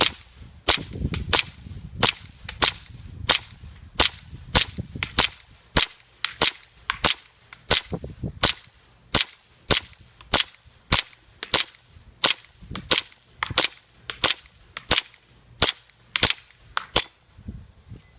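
A WE 4.3 Hi-Capa airsoft pistol fires a long string of sharp, crisp shots at a steady pace, roughly one per second, loud and close outdoors with no talking.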